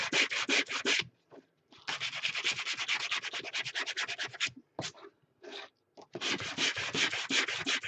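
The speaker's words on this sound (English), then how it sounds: "one thing about sanding, it's messy" Rapid rhythmic sanding strokes on a metal tin, close and scratchy, in several bursts separated by short pauses.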